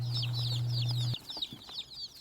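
Many chicks peep in high, rapid chirps throughout, over a steady low hum from a brooder that cuts off partway, leaving the chirping alone with faint rustles.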